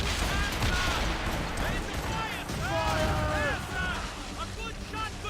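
Naval broadside fire from sailing ships in the video game Assassin's Creed Rogue, dull cannon booms and whistling shot over wind and sea noise, with crew shouting orders over the battle.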